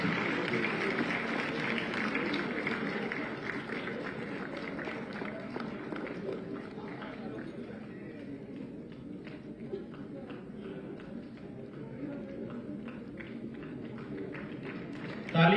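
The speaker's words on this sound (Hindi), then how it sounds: "कृपया तालियों से हमारे छात्रों का उत्साहवर्धन करने की कृपा करें।" Sustained audience applause welcoming students at a school ceremony run by the Bhaurao Deoras Seva Nyas girls' education project, steady and dense throughout with a crowd murmur mixed in.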